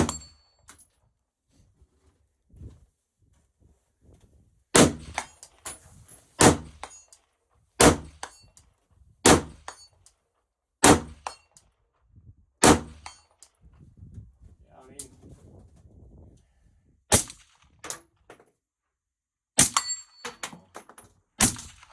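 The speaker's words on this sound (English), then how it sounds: "Go for that gong again." Sharp metallic clangs from a steel gong struck by gunshots, about a dozen separate ringing hits spaced a second or two apart, loud and close, with quiet stretches and faint talk between.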